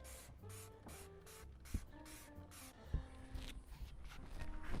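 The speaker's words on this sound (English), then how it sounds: "I'm just going to spray this down real good" Cleaner is sprayed onto an RV air conditioner unit in a quick series of short, hissing trigger bursts, fairly quiet, followed by softer handling noises and faint rustling.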